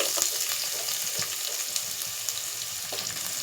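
Onions sizzling in hot oil in a pan with chana dal and urad dal for a dried shrimp and cucumber curry, a close, steady crackling fry with light stirring.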